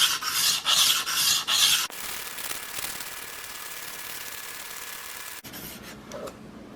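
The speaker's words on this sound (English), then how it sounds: "So now we will go into sharpening at 800 grit" A blade is rubbed in steady back-and-forth strokes on 800 grit sandpaper, a loud, close, rasping scrape in a rhythmic run, then a longer even grind and a few lighter final strokes.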